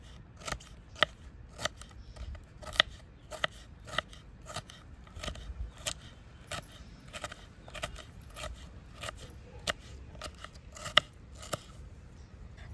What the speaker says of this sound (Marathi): मिश्रणात टाकण्यासाठी आपण शिमला कापून घेऊ